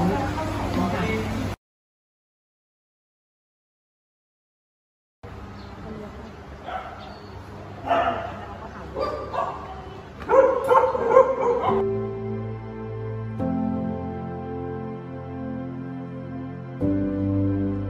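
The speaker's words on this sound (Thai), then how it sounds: "เห่าอย่างเดียวดิมาดูน้อง" A dog at an animal-welfare project barks and yips in short, scattered bursts amid people talking, with a stretch of silence early on and steady tonal sound toward the end.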